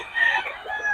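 Chickens kept for sale make a brief, fairly faint clucking, crowing call, heard alone for about a second.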